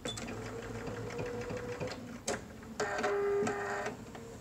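Sewing machine stitching a seam on a cotton face mask, with a steady whirring run of stitches, a brief pause, then a louder, faster burst toward the end.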